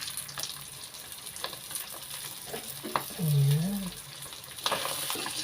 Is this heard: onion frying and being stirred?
yes